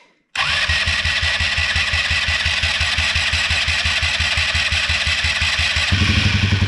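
A Polaris RZR 170 engine, choked, catches after a moment of silence and settles into a loud, steady, rapid idle thump that roughens slightly near the end.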